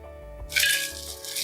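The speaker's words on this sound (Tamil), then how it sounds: "பாருங்க, மொறுமொறுன்னு சத்தம் கேட்குது பாருங்க." Kashmiri chillies and curry leaves roasted crisp for idli podi give a dry, close rustling crunch and crackle that starts abruptly halfway through and continues alone to the end.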